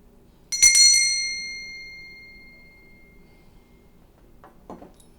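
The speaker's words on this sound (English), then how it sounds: "I'm going to use my bell to call upon your angels and your spirit guides to assist with this reading." A single hand bell struck once for calling on angels and spirit guides during a spiritual reading, ringing out clearly and fading over a couple of seconds, followed by a faint brief rustle.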